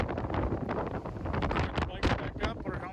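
Strong wind buffets the microphone on Mount Washington, a steady loud roar with gusty surges throughout. Someone speaks over it, at a stop partway up a ride to the summit during Laconia Bike Week.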